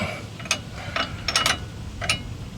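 Bolts being tightened on a 1964 Ford F100: several short ratcheting bursts and metallic clicks at close range, spaced irregularly over steady background noise.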